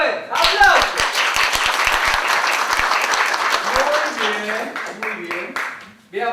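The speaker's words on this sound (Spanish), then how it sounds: "A ver, aplausos." Dense audience applause in a radio studio broadcast, loud and sustained, with sharp individual claps at the start. Voices come in during the closing seconds.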